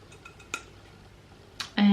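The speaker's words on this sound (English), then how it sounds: "in the lid I just kind of like tap it off" Soft taps of a fluffy makeup brush against a compact lid, knocking off setting powder: a few faint light ticks, then two sharper close taps, ending in a brief louder clatter.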